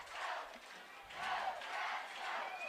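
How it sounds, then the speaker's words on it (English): Crowd at a high school football game between Booneville and Poteau cheering late in the game, swelling in broad distant waves of roaring voices. "listen to that crowd. They're getting going."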